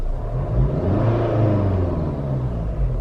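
A Jeep Renegade TrailHawk with a 2.0 diesel engine gives a continuous, close, low rumbling drone that stays fairly steady throughout, with a slight rough vibration and no voices.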